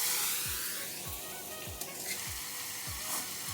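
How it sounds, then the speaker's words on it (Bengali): Pointed gourd (potol) frying until golden for a Bengali paneer-stuffed posto curry, a constant sizzle with regular soft knocks of a spatula roughly every half second. "আমি একটু ভালো করে লাল করে ভেজে নিচ্ছি।"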